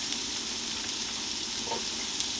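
Ground sausage meat sizzles steadily in an oiled pan, a close, continuous frying hiss with no pauses and no voices.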